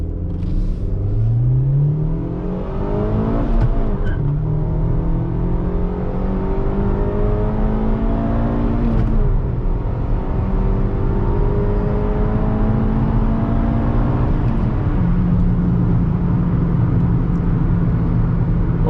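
A Suzuki Swift Sport's engine revs hard from a standstill and climbs in pitch, dropping briefly at each gear change before surging again, loud and up close.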